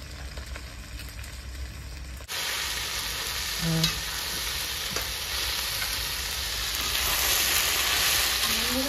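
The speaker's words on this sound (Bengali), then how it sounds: "শুকনো তো, তাই একটু দেরি হয় ভাজতে ভেন্ডি।" Okra frying in a pan, a steady close hiss and crackle of oil that jumps louder after a few seconds and stays dense throughout, with no talking.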